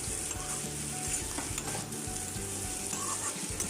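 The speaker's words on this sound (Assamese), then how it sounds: "এতিয়া নিমখ দি পেলাই এতিয়া ভালদৰে লৰাম" Salted potato filling fries and is stirred in a pan, a dense close sizzle with regular scraping strokes of the spoon, and no voices.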